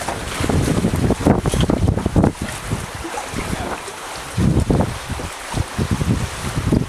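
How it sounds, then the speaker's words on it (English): Sailboat under way in a tidal channel of the Kimberley coast, Australia: steady roaring wind noise and water rush buffet the microphone continuously, loud and close, with gusting swells in the rumble. "we're sailing, so it's really pleasant in this channel"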